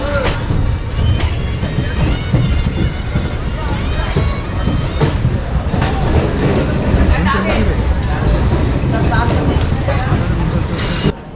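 The Shaktipunj Express passenger train on its Jabalpur to Howrah run rolls along the rails with a loud, steady rumble and rattle of the coaches, continuous throughout, with a voice talking over it.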